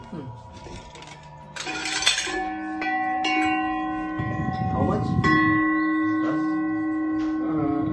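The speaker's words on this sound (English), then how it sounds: "Bell, pin chimes. They have a bell." Several pin chime bells chime and ring with long sustaining tones, some struck one after another, while a person briefly speaks nearby.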